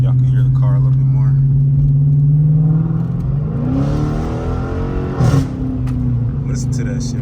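Dodge R/T Plus engine heard from inside the cabin through an open sunroof, a loud steady low drone that swells as the car accelerates, with someone talking over it.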